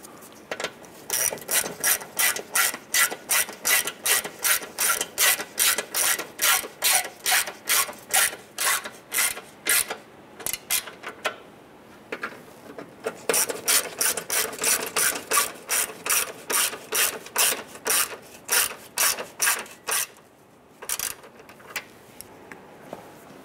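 Ratchet snugging down radiator mounting bolts on a 2005-2010 Chrysler 300, heard alone as two long bursts of fast, even clicking with a short pause between them.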